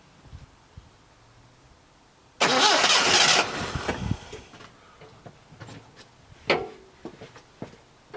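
A 1971 Datsun 510 barn-find engine cranks and catches in a loud burst of about a second, then settles into a rough, uneven idle with ticking and scattered clunks nearby.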